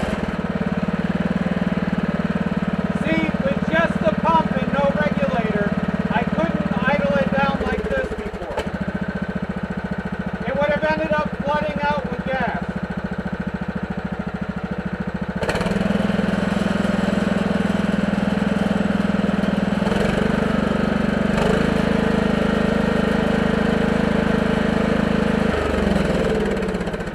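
A lawn tractor engine fitted with an upgraded electric fuel pump runs steadily at close range, with a droning idle that briefly dips and shifts in pitch a few times, plus intermittent whiny tones over the drone.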